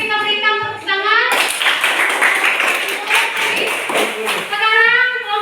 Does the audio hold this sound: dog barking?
no